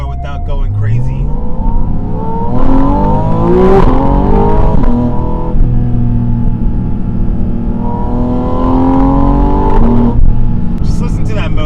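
A mid-engine six-cylinder Porsche 718 Spyder RS revs hard on the move, its pitch sweeping up and falling back twice in loud, close, continuous engine howl.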